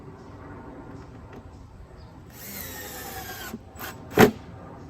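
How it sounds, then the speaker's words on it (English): Screws are driven into plywood on a wooden bat house, with a short whirring power-drill run in the middle followed by a sharp knock, against a quiet background. "I'm just going to add a couple extra screws over here"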